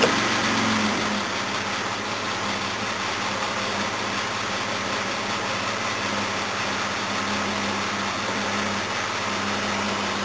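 A warmed-up Jaguar XJ6 engine idles steadily nearby after being put in gear, an even mid-pitched hum and rumble that barely changes over ten seconds, with no voices.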